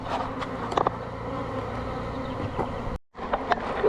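Honey bees buzz steadily on a slippery roof, some fanning their wings, producing a close, continuous droning hum with brief louder flybys and one short dropout, with no voices.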